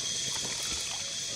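Water trickles and splashes steadily as it is poured out for a dog, a continuous close, moderately loud stream with a faint hiss.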